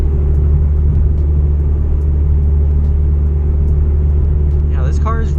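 A 2012 Ford Mustang fitted with a Roush exhaust drones steadily at freeway speed, a loud, constant low rumble of engine and road noise throughout, with a brief voice near the end.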